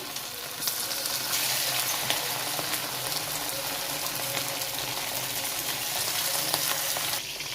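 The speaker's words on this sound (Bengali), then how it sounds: "এবার আমি চিকেনগুলোকে পকোড়া করে নেবো। আস্তে আস্তে চিকেনগুলো ছেড়ে দিচ্ছি।" Chicken pieces for chilli chicken fry in hot oil with a loud, continuous crackling sizzle that holds evenly from start to finish.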